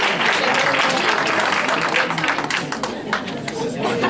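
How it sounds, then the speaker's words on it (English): An audience applauds in a dense, steady burst of clapping that fills the room, loud and continuous, with some crowd noise blended in. "can we give them another round of applause?"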